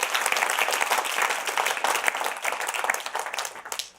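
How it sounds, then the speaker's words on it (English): Dense applause from a conference audience fills all four seconds, a steady wash of many hands clapping at close range with no voices standing out. "Yeah, round of applause."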